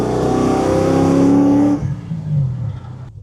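A 1973 Pontiac Firebird Trans Am with a naturally aspirated LS3 V8 revs hard under wide-open acceleration, its rising engine note loud and close before cutting off abruptly, followed by a brief lower surge and fading rumble.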